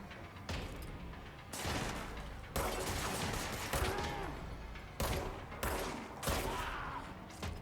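Repeated bursts of gunfire from a service weapon in the game Control, several loud shots separated by short gaps with a mechanical clatter between them and no talk over them.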